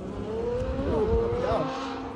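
A Novitec-tuned Ferrari F12 supercar engine revs with a rising, throaty tone over crowd chatter and background noise at a Cape Town car meet, moderately loud and sustained.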